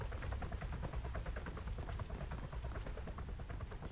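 A helicopter flies around a server map in Arma 3's DayZ Breaking Point, its rotor thumping steadily and loudly throughout with a thin high whine running above the rhythmic chop.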